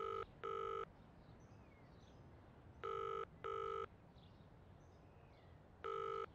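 Telephone ringback tone on an unanswered call, paired double rings repeating about every three seconds, thin and distant through the handset over faint background noise.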